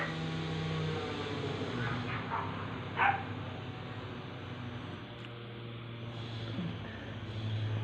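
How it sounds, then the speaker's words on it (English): Dogs barking at a distance outdoors in a city suburb, faint and scattered, under a steady hum of background noise and traffic. "Even the dogs are barking outside"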